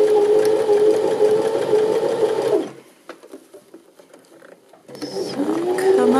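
A sewing machine stitches knit fabric cuffs in two loud bursts of steady motor whir and needle chatter, separated by a quiet pause with faint handling sounds.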